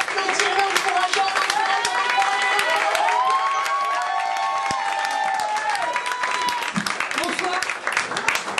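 A lively crowd applauds and cheers a young slam poet at a poetry league launch, loud clapping mixed with whoops, shouts and sustained vocal cheers throughout.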